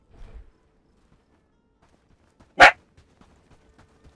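One sharp, loud dog bark rings out in the Bellwright video game, standing alone against near silence with only faint, scattered low sounds around it.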